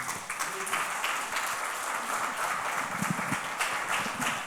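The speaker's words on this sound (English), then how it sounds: "A resounding round of applause for Prof." Audience at an African conference on One Health applauds after a presentation, a moderately distant, even patter of many hands clapping that continues for several seconds.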